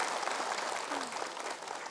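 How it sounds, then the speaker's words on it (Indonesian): Studio audience applause during an Islamic morning talk programme, steady dense clapping sustained across the whole two seconds at moderate level. "Boleh tepuk tangan lagi Ibu."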